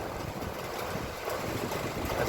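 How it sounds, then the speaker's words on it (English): Steady outdoor rain and strong gusting wind make a dense, continuous rushing wash that swells slightly toward the end, with no voices. "It's raining plus it's windy as well"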